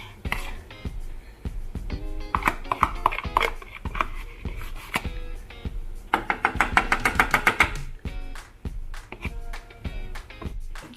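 Melted chocolate and butter are stirred in a pot, giving a string of quick, sharp clicks and taps from the spoon. The taps are irregular, with a denser flurry partway through, close by and moderately loud.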